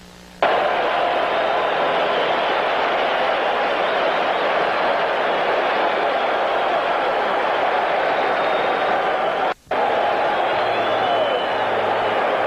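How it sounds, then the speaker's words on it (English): A packed stadium crowd gives Gary Matthews a sustained ovation during Game 3 of the 1983 NLCS between the Phillies and Dodgers, a broad steady roar that continues almost unbroken with one brief dip. "looking at this crowd and the ovation for Gary Matthews"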